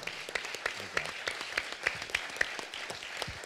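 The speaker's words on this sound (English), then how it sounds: "I really want you guys to stand up on your feet and clap and thank this man" Audience clapping at a music business workshop with a DJ, a moderately quiet patter of claps with a few sharper, louder hand strikes standing out from the room.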